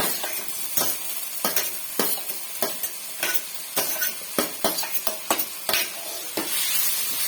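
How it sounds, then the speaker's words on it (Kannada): Onion and tomatoes fry for tomato sambar while being stirred, a constant sizzle broken by frequent sharp spoon scrapes and taps on the pan in an uneven rhythm, close and clear without speech. "ಟೊಮೊಟೊ ಕೂಡ ಫ್ರೈ ಮಾಡ್ಕೊಳ್ಳೋಣ"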